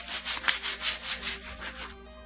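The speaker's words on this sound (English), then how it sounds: "we've worked it down with 100 grit" Scratched handguards being sanded by hand with 100-grit sandpaper, a steady series of rough back-and-forth rubbing strokes, close and fairly loud, with no talk.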